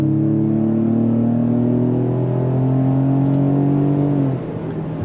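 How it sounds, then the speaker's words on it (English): A 2025 Ford Explorer ST-Line with its 2.3-liter EcoBoost engine pulls hard on throttle, a steady loud engine drone climbing smoothly in pitch for about four seconds before easing off, with no talking. "we're gonna go on throttle. On throttle, here we go."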